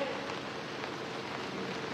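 Rain falls on an outdoor political rally as a constant, even patter of drops, soft and close. It forms a steady wash for the whole stretch without clear breaks.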